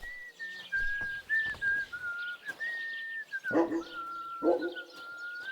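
A dog in the medieval game Kingdom Come: Deliverance II gives two short barks partway through, set against a steady outdoor backdrop of a whistled tone and chirping birds.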